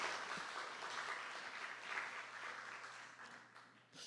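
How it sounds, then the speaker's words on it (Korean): A church congregation at a youth prayer service claps together after a closing prayer. The applause is dense and sustained and fills the room, then thins toward the end as a few last claps and a faint voice come through. "우리 하나님께 영광의 박수 올려드리겠습니다."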